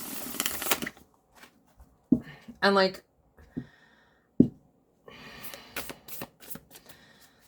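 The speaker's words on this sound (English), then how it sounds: "if I shuffle it this way first, against the warp, and then if I shuffle it turned this way" A tarot card deck shuffled by hand, a quick riffling burst at the start followed by scattered shorter riffles and card taps, close and fairly quiet, with a person speaking briefly between them.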